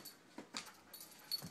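A female dog gives a few soft, close whimpers and short yips in scattered bursts during playful wrestling, quiet overall with brief gaps between sounds.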